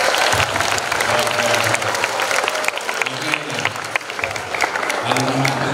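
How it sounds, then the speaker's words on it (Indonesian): Audience at a junior high school anniversary celebration in Yogyakarta clapping steadily for a student, with low voice-like bands running beneath the dense applause throughout. "Tepuk tangan untuk Faiz."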